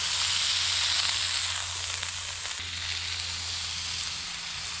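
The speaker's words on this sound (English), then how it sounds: "cooking smash burgers like this is incredibly effective because they cook so quickly" Smash burgers sear on a griddle over a damp wood fire beside a North Georgia river, giving a steady, loud broadband sizzle with a low hum underneath that holds through the whole stretch.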